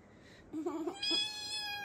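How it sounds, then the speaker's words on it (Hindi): A house cat in a mountain village home gives a couple of short, close meows, followed by a higher, drawn-out mewing cry over faint room noise. "ये बिल्ली मैं बोलता हूँ ना जब भी ये अपने घर में अकेली रहती है सीधे मेरे यहाँ आ जाती है"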